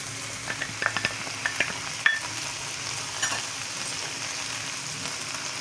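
Chopped onion and green chili fry in oil with a continuous close sizzle, punctuated by a run of light stirring taps early on and a sharper clink near the middle, no speech.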